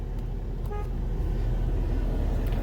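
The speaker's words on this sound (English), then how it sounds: "Kind of a wimpy horn for how massive of the truck this is." Horn of a 2021 Ford F-350 Super Duty crew cab dually truck, one short, fairly thin toot heard from inside the cab over a low steady rumble.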